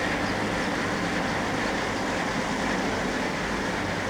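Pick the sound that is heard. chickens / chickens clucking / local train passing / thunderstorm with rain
local train passing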